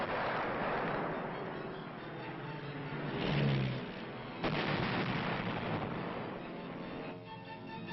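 Old German battleships struck in a bombing demonstration, heavy booming blasts and rumbling roar on a muffled, narrow-band archival track, with a sharp new explosion midway and sustained noise throughout.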